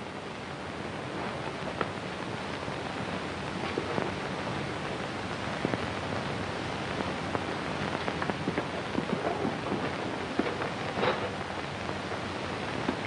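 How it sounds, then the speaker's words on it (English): Steady rain falls through the night in a 1947 film noir scene, a dense hiss of drops spattering on surfaces with occasional louder patters, continuous and fairly close, with no voices over it. "The rain ought to let up soon."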